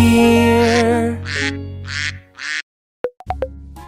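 A duck quacks loudly and close by in four rhythmic, nasal calls, then a short silence, followed by a few sharp plopping pops.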